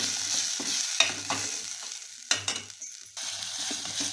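Green masala paste roasting in a pan for a vatana zirka curry, a soft sizzle punctuated by several sharp scraping stirs of a spoon, close-up and fairly quiet with no talking.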